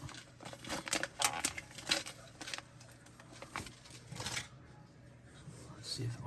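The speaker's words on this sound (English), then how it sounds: "we're gonna cut these open." Traxxas brass hex upgrade parts for a TRX4M are cut out of their plastic packaging, with close crinkling, snipping and rustling bursts that come in uneven clusters, then quieter handling, and light talk faintly underneath.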